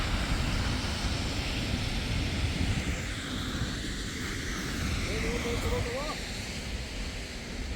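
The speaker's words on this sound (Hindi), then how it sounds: "वाटरफॉल।" A waterfall of melting glacier water on a mountain pilgrimage trail roars as a constant broad rushing wash, with a brief voice near the end.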